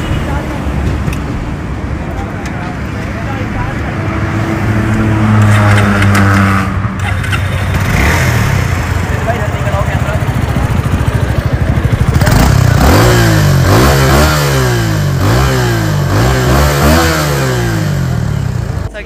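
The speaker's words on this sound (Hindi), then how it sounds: "इसका एग्जॉस्ट नॉट सुना तो आवाज़ काफ़ी ज़्यादा स्मूथ है" Suzuki V-Strom SX250 motorcycle exhaust, 2023 model, revved repeatedly up close, rising and falling engine swells with a smooth buzzing note, a steady idle between blips, and someone talking over parts of it.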